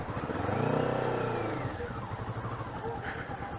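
Kawasaki Vulcan S cruiser motorcycle pulling away in first gear, its engine rising in a loud sweeping rev then settling to a steady throbbing drone close by.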